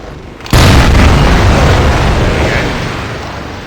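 A loud C4 blast goes off in Battlefield 2, destroying an enemy UAV trailer: a sudden heavy boom with a long, rumbling decay that trails off over several seconds.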